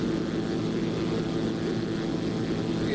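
Zlin 142 propeller plane in X-Plane 11, its engine droning steadily and loudly throughout with a broad, even rumble and no voices.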